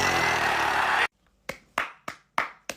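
A few sharp hand claps from a football fan, five separate claps in an uneven rhythm following a burst of loud noise, close and clear with no talk over them.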